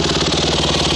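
A Honda CRF150R dirt bike engine, freshly rebuilt and running a stock exhaust, idles steadily up close with an even, rapid thumping pulse and no voices over it.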